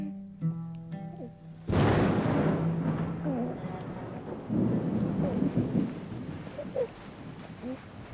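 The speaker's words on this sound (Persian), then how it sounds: "این باران هم از برکت قدوم توست فرزندم." A thunderstorm breaks with a sudden loud crack of thunder that rolls into heavy, steady rain. Softer rumbles follow under the downpour, and a voice is briefly heard beforehand.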